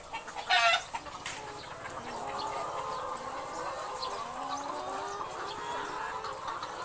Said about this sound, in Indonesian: Dan itu ayam perangsangnya yang jantan.